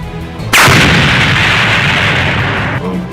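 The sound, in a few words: explosion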